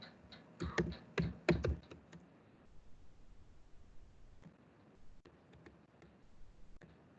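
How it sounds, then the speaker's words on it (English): Keys clatter on a computer keyboard while a keyword is typed into a scholarly journal search: a quick cluster of loud, close keystrokes, then a pause, then sparser, softer taps, with no talk over them. "Here, let me type any keyword."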